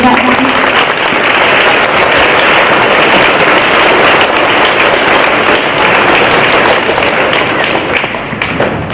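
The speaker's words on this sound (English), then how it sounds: "I would like to give you an opportunity to applaud all the people that are serving overseas now" A crowd at a Veterans Day gathering applauds loudly and steadily for service members overseas, the dense clapping staying full for about nine seconds before easing slightly at the end.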